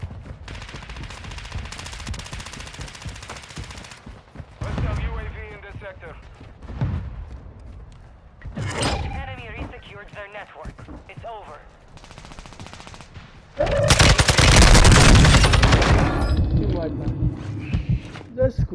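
Bursts of rapid gunfire crackle through a Call of Duty: Modern Warfare II match, with a loud sustained volley near the end, while players talk over it.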